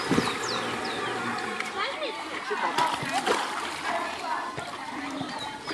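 Water splashes and sloshes steadily from many people playing in a pool at a country retreat, with children and adults talking and shouting over the noise throughout.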